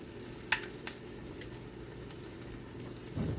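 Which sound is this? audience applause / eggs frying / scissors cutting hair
eggs frying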